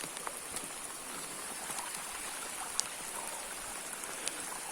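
Steady rain pours outdoors near the entrance of a cave hole, a dense, even hiss of drops with a few sharper drips standing out, constant and close, no voices.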